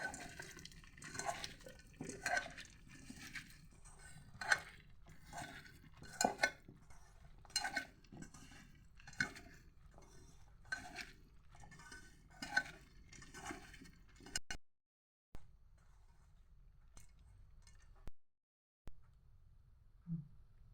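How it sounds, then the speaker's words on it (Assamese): Lentils, potato, yam, onion, green chilli and garlic being mashed in a pot, with repeated soft squelching thuds and utensil scrapes in a steady rhythm, fairly faint, then near-silence. "দাইল আলু ওলকবি পিঁয়াজ কেঁচা জলকীয়া আৰু নহৰু দি এতিয়া মঠি লওঁ।"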